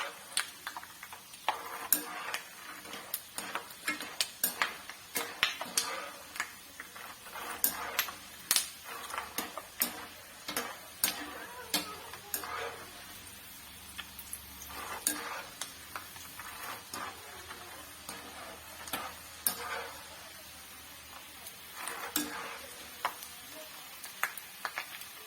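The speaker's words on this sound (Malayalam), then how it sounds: "കപ്പലണ്ടിയൊക്കെ പൊട്ടാൻ തുടങ്ങി" Peanuts fry in a pan for a mixture snack, with sharp irregular pops and crackles bursting over a soft background sizzle, close and continuing throughout with no talk.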